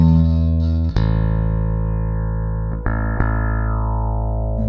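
A Spector bass guitar runs through a Wal-style preamp with the mid boost engaged, producing sustained, thick, distorted notes, with three new notes plucked over about five seconds and nothing else playing.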